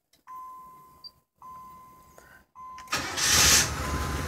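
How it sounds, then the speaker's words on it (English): A fuel-injected Chevy Caprice LS: a few short chimes and pauses, then the engine cranks and catches into a loud, close start that settles toward idle, with no talk. "Start right up."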